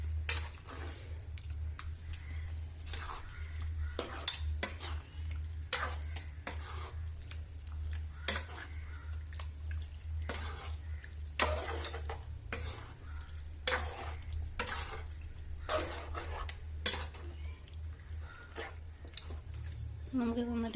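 Chicken masala is stirred with hot water in a pan: soft, scraping spoon strokes and gentle sloshing with light clinks, repeated irregularly over a low, steady background hum.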